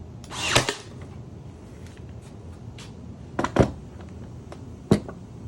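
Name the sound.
Ryobi Airstrike cordless nailer firing nails into wood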